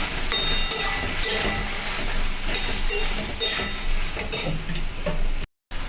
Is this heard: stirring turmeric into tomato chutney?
yes